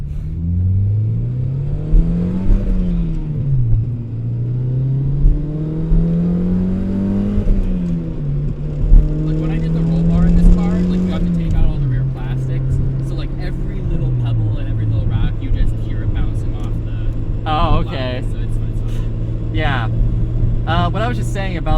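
A Mazda Miata NC track car revs hard through the gears, engine pitch climbing and dropping with each quick shift, loud and close throughout, with some tire or wind noise building toward the end.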